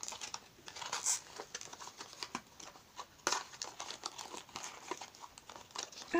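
A plastic packet of serum pipettes is torn and opened, giving close, scattered crinkling and crackling with a few sharp rips across several seconds and no talk.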